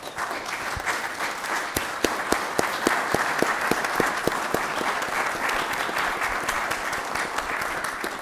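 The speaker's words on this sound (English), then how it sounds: "give them a nice round of applause" A room applauds a panel from the Army Corps of Engineers at a Senate committee field hearing: sustained dense clapping with a few sharp individual claps standing out, steady from start to finish.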